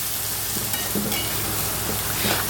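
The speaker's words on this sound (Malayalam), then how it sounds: "ഇഞ്ചി പച്ചമുളക് ക്യാരറ്റ് സവാള എല്ലാം ഇട്ടു നന്നായിട്ടൊന്ന് ഇളക്കാം" Ginger, green chili, carrot and onion sautéing in coconut oil or ghee, heard as a steady, moderately loud sizzling hiss with a few soft stirring knocks throughout.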